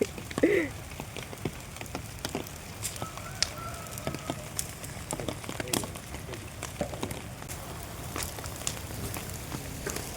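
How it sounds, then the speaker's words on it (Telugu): Steady patter of rain with scattered sharp drips and taps, a constant soft hiss throughout and no talking. "వర్షం"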